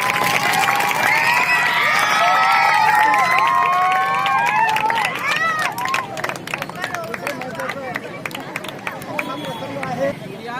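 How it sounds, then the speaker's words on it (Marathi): Applause and cheering from a crowd at an anniversary gathering of the Bharatiya Dalit Cobra organisation, greeting its Marathwada regional president; loud excited voices give way to scattered clapping. "त्यांच्यासाठी टाळ्या होता"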